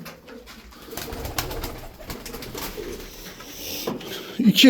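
Tumbler pigeons coo softly around their nest in a loft, with low repeated coos close by, some rustling and someone briefly speaking.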